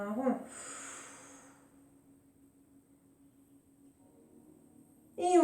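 A long, soft exhale during a Pilates exercise, starting with a breathy gasp and fading into quiet airflow, with a voice resuming at the end.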